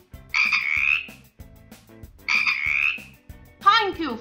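Cartoon frog croaks in a children's letter-learning game, two long buzzy croaks with clicky rhythmic pulses beneath, then a rising chirpy call at the end, close and clear with no talk.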